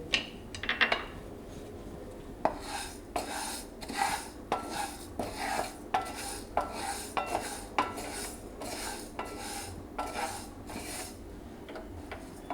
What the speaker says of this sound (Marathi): त्या पॅनमध्ये आपण ही सालीची उडदाची डाळ छान भाजून घेऊ